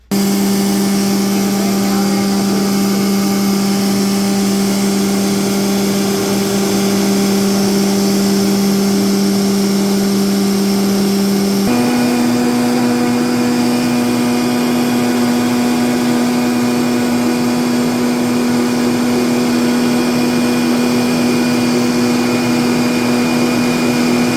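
Electric kitchen mixer working spelt tortilla dough, a loud steady motor whine that holds one pitch, then drops slightly midway and continues evenly.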